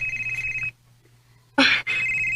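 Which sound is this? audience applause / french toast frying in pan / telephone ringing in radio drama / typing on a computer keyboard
telephone ringing in radio drama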